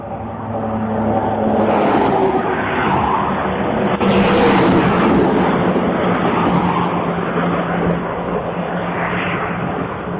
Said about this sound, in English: There's a big truck coming.